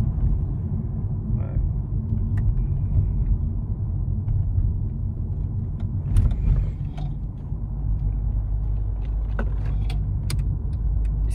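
A Mercedes E350 CDI diesel with an automatic gearbox, heard from inside the cabin: a smooth, steady low engine and road rumble with a few faint mechanical clicks and no talk.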